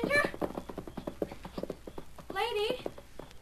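Pony hooves clop steadily in an outdoor Western scene while someone talks over them, and the pony gives a brief whinny near the end.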